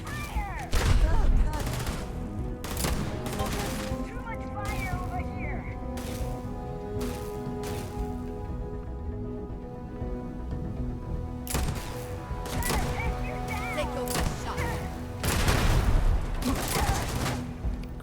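Gunfire in the space role-playing game Starfield comes as repeated loud sharp bursts in clusters, separated by a quieter stretch of humming ambience, with voices faintly underneath.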